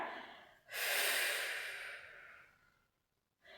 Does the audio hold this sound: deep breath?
yes